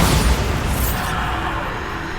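A Bombarda blasting spell explodes in the video game Hogwarts Legacy with a loud, broad booming blast. The rumble holds steady and then slowly fades over about two seconds.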